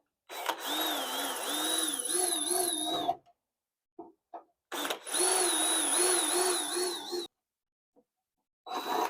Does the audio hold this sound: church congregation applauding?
no